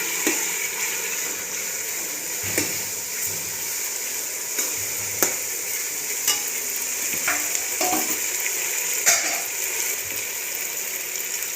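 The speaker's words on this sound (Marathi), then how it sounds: "ते पण छान तेलामध्ये परतून घ्यायचे कच्च्यापणाचा जाईपर्यंत" Biryani masala paste sautéing in oil in a pan, a steady broadband sizzle with occasional scraping and stirring clicks from a spatula, close and even throughout without any talk.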